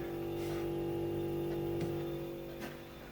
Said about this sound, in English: Now the fridge is running. You might be able to hear it.